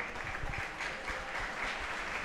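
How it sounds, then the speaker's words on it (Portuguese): Steady applause from a stadium crowd as a Colombian number 20 player leaves the pitch during a Paulista A4 match between XV de Jaú and Grêmio São-Carlense, continuous and moderately distant throughout. "Vai saindo o Leiton, muito aplaudido, hein?"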